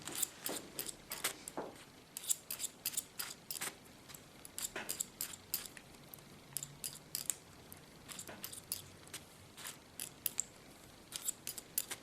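Steel hair-cutting scissors snip through a woman's under hair lifted on a comb, a quick, close series of crisp metallic snips in irregular bursts with short pauses, no voices.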